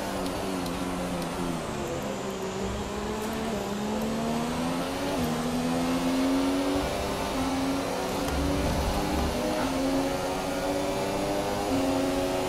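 An F1 race car engine from the video game F1 2017 screams at full speed down a straight, a loud, continuous high-pitched whine that climbs gradually with slight dips as gears shift.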